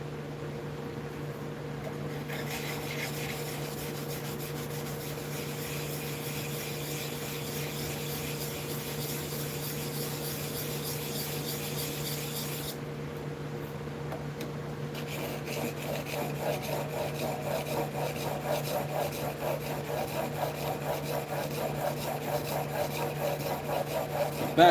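A hand plane blade is rubbed back and forth on 400 grit wet stones in a long, steady rasping stroke, continuous and close, with no talk.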